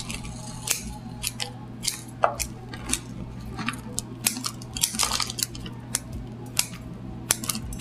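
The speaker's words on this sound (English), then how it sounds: "Just grab my root cutting scissors." Root cutting scissors snipping through an oak bonsai's roots, a run of sharp, close metallic clips and crunches at an irregular pace over a steady low hum, with no voices.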